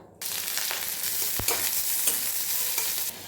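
Green chilies hit hot oil with vegetables in a pan and set off a loud, steady frying sizzle that runs almost unbroken. One sharp knock of the pan or spoon lands partway through, with no voices.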